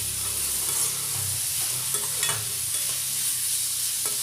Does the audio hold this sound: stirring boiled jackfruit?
yes